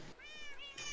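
Several cats meow in a Minecraft game, a run of high, drawn-out mews following one after another, close and clear with no talk over them.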